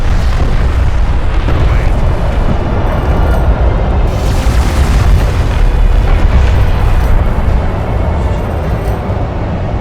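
An enemy siege cruiser explodes in the video game Homeworld: Deserts of Kharak, a loud, sustained rumbling blast with rolling booms that swell midway and slowly fade.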